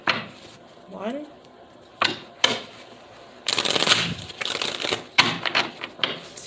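Tarot cards shuffled in a few separate bursts of crisp riffling and slapping, close to the microphone, with quiet gaps between them and a voice briefly audible.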